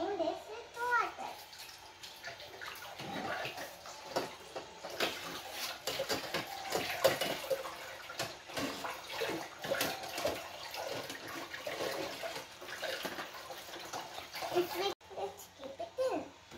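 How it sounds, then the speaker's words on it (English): Running tap water splashes steadily over a dishwasher drain filter being rinsed by hand, a continuous close hiss and patter with a voice chattering in the background. "And now I'm cleaning this with water."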